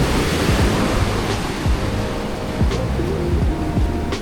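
Surf roars steadily at My Khe Beach, Da Nang, with rumbling waves washing in, heavy wind buffeting the microphone throughout; no voices.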